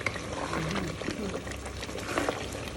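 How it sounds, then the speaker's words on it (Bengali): Broth poured into beef and potato curry sautéing in a pot, a close wet splash and trickle over bubbling and sizzling, steady and moderately quiet. "তারপরে আমরা খাওয়ার যে একটা ঝোল থাকে ওই ঝোলটা দিয়ে দেবো"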